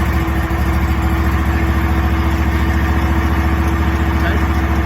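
A zero turn lawnmower engine idles steadily and loudly after starting, a continuous low rumble with a constant high whine running through it.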